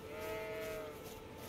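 A goat bleats in Elden Ring, one long wavering call with clear tonal harmonics running close and steady over a low background hum, with no one speaking.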